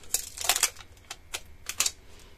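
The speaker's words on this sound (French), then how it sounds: "Et je vais embosser mon mot." A word is embossed onto a scrap of dark blue paper, giving a series of sharp, close clicks and taps in irregular bursts, with no one talking.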